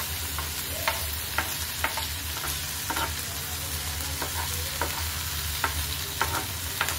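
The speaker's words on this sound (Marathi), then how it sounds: "पातळ थोडं पसरायचं, कारण आपल्या बटाट्याचा खीस कुरकुरीत झाला पाहिजे" Thin layer of grated potato frying until crisp for a sweet fasting-day potato ghevar, a steady close sizzle with occasional stirring taps and scrapes, no talking.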